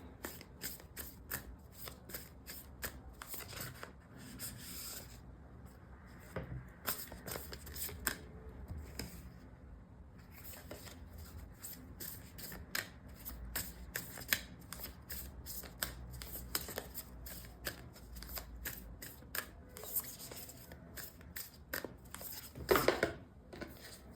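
Moonology Oracle cards shuffled by hand outdoors, a steady run of dry riffling and slapping card sounds lasting throughout, with brief pauses and a sharper clatter near the end, no talking.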